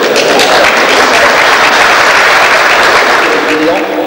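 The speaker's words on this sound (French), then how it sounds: "Les applaudissements, ça baisse." Loud, continuous applause from a crowd at a mountain-bike race prize-giving, dense clapping that holds steady throughout with a murmur of voices underneath.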